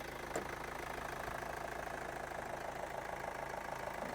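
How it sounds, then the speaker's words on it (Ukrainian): A 2013 Kia Sorento engine idles at a steady, even rumble, continuous and moderately quiet, with no voices and no timing chain noise. "Звук мотора працює ідеально."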